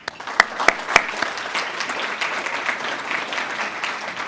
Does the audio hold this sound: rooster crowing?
no